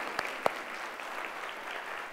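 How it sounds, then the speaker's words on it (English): At an evening session of a coding hackathon, an audience gives a round of applause: soft, distant, continuous clapping with a couple of sharper claps near the start. "A big round of applause to Danish."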